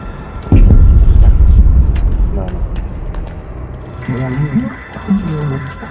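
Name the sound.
phone ringing in the video game Control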